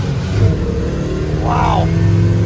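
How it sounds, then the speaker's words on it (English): A 1967 Chevelle SS 396 four-speed runs with its engine droning steadily and loud from inside the car, a whining power steering belt riding over the rumble, with a brief rising squeal midway. "Yeah, I hear that power steering belt"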